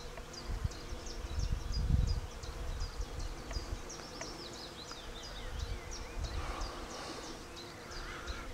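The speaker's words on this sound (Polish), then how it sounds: "Jakieś bąki, pszczoły, trzmiele i inne tu latają." Bees and bumblebees buzz around a spring countryside spot near the village of Pilce, their faint droning passing close and away, with several birds chirping in the background and some low handling noise.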